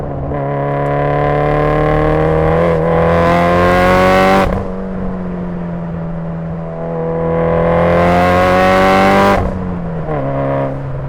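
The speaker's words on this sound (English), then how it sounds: "I think it sounds really good for a inline 4-cylinder" A Mitsubishi Lancer Evolution IX's inline four-cylinder engine revs up twice, its harmonic pitch climbing to a roaring peak and then dropping back to idle each time. The sound is loud, close and continuous, with no talking.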